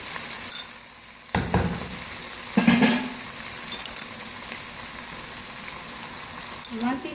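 Mash dal lentils sizzling and frying in a pan over high heat, a soft steady crackle with occasional louder scrapes of stirring and a clink of utensils.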